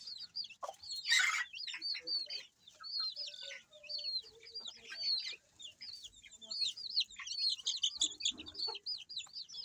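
Silkie crossbreed chicks peep in rapid, continuous high cheeps beside a hen, whose low clucks come in now and then, all fairly close and moderately quiet.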